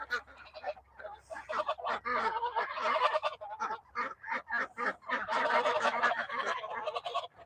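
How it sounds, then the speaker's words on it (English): Three farm geese honk loudly and repeatedly among ducks during evening chores, with dense, overlapping calls that keep going throughout. "there's the geese. 3 geese."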